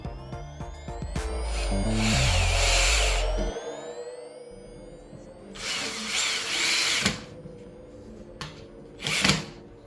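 A power drill bores holes through felt decorative acoustic panels, its motor whine rising and falling in several loud, close bursts with brief pauses between them and no voices.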